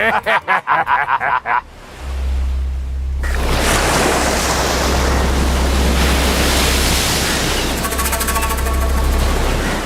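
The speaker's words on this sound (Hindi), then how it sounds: "समंदर बड़े गुस्से में है।" Rough sea waves surge in a loud, continuous roar with a deep rumbling undertone, following a brief run of sharp rhythmic pulses at the start.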